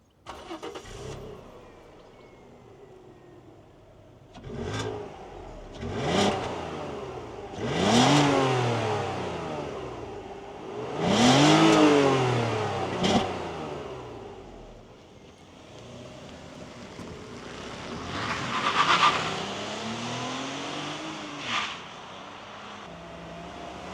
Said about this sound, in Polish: Palimy maszynę i przy tym soundcheck.